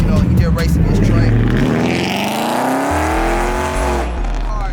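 Race cars on a track on a race day roar past close by, their engines climbing and sweeping in pitch with a hint of tire squeal, while someone talks over the noise.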